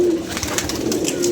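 Pigeons coo in low, rolling calls as they are let out of their loft, a near flock murmuring steadily with a louder coo at the start and end.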